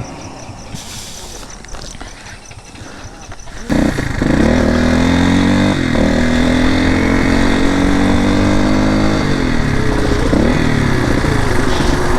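Motorcycle engines drone steadily while riding, a loud close engine note that kicks in after a few seconds of quieter wind and road noise, with small pitch shifts as the throttle changes.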